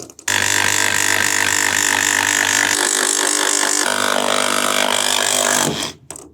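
A power tool cuts a 6-foot-wide pergola cover sheet, a loud, close, continuous whining grind lasting several seconds that shifts tone midway, then stops abruptly.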